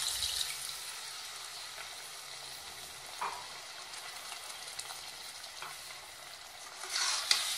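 A quail egg masala gravy being stirred in a pan just after a cup of water is poured in, giving a steady wet sizzle with soft scraping strokes and a few louder clinks near the end.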